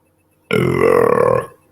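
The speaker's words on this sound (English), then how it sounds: "I'm getting some awesome burps for my highlights reel of burps." One loud, close burp lasts about a second after a short silence.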